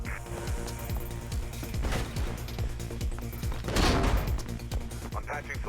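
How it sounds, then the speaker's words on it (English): Gunfire erupts in the video game Mirror's Edge, a busy run of sharp shots and cracks mixed with game music and effects, with a heavier burst near the end. "I can hear gunshots"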